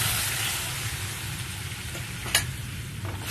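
Red masoor lentils hitting a hot pan with turmeric, setting off a steady, dense sizzle that holds evenly throughout, close up with a brief sharper crackle partway through and no talking.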